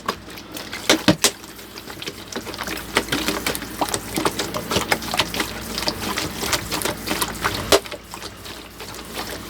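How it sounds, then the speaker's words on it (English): Water pours and trickles into a new handmade pot holding a Gollum jade plant, a close, uneven stream with small splashy ticks and drips continuing throughout. "let's give that a watering in"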